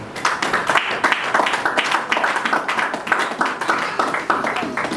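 A church congregation at a French-language worship service claps in a steady, rhythmic beat, many hands together, loud and continuous throughout, with some voices mixed into the applause.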